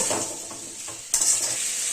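Potatoes fry in a pan for Bankura-style aloo posto, a close, steady sizzle under a brief clatter of a utensil stirring against the pan.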